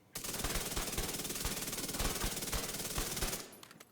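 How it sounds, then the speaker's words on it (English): Chatterbox SMG blind-fired from cover in The Division 2, a sustained rapid burst of automatic gunfire lasting about three seconds with a steady rattling rhythm, loud and close, ending abruptly. "Now sitting in cover, here is what the blind fire looks like."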